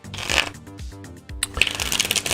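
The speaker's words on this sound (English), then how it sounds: "I have a little bit more shuffling to do here today." Tarot cards being shuffled by hand, close and crisp, with quick riffling bursts and flicks separated by a short pause.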